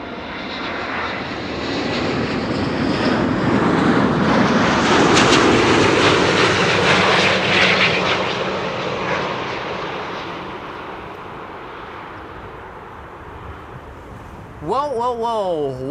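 Corendon airliner from Willemstad, Curaçao, arriving on runway 06 at Amsterdam Schiphol, its jet roar swelling to a loud peak midway and then slowly fading, with a voice talking near the end.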